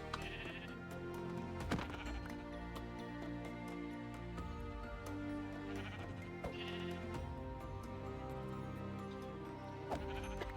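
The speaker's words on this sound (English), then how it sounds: "2 sheep have spawned." Sheep bleating in the Minecraft video game, several short bleats repeating at intervals over a steady layered background, moderately close with no talking.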